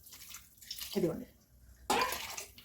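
Water is poured from a jar into a pot of rice for vegetable rice, two short splashing pours separated by a pause, close and fairly quiet.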